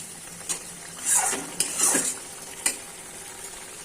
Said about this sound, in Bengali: এবার একে একে এর মধ্যে পটলগুলো ছেড়ে দেবো নেড়ে